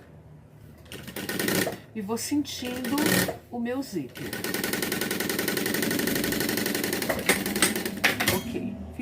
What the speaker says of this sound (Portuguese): agora sim, eu vou vir costurando nas extremidades